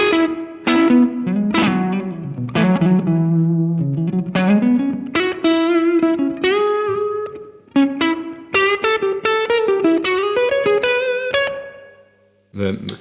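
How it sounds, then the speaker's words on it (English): Clean electric guitar tone through a fuzz pedal setup with the overdrive pedal off, played as a run of plucked notes and chords with steady sustain and a short pause near the end, no talking. "without the overdrive pedal, the cleanup sounds like this."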